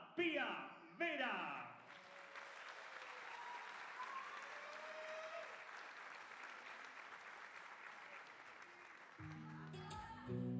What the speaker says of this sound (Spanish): Recibimos con un fuerte aplauso a Pía Vera